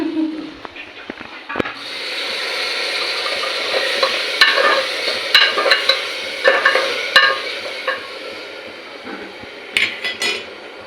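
Eggplant and potato curry being stirred and fried in a pan, with a steady sizzle throughout and repeated sharp scraping knocks of a spoon against the pot, a few voices faint in the background.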